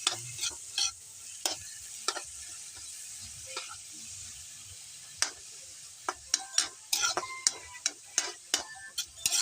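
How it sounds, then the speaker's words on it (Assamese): Tomatoes sizzle quietly in a pan while a utensil stirs and scrapes, giving sharp irregular clicks and taps close by. "তাৰপিছত অলপ এনেকৈ ভাজি ল'ব লাগিব"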